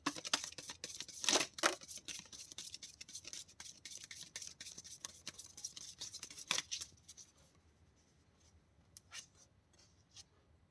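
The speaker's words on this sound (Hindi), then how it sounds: "This is my last shuffle." A deck of tarot cards being shuffled: quick, papery riffles and slaps repeating close up for about seven seconds, then a few softer, scattered card sounds.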